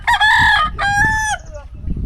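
A rooster crows loudly and close in an old village, one long strained cock-a-doodle-doo in two drawn-out phrases, then fades into low background noise.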